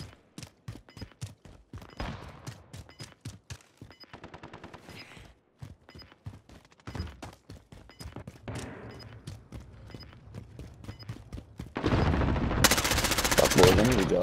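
An automated sentry gun fires in Call of Duty: Modern Warfare, sharp rapid bursts of gunfire repeating in quick rhythmic volleys, close and loud, ending in a dense roar of heavier firing and noise.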